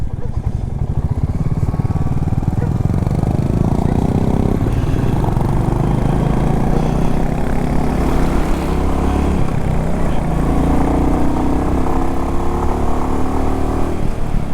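A Royal Enfield motorcycle engine runs steadily nearby with a low, even, thumping throb under someone talking.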